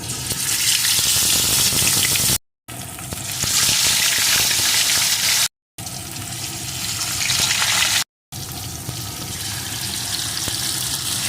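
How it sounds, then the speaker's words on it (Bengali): Pieces of katla fish frying in hot oil in a wok, a loud, steady broadband sizzle that runs almost continuously, broken by three short silent gaps, with no talking. "এখন এপিট ওপিট করে মাছগুলো লাল লাল করে ভেজে নেব"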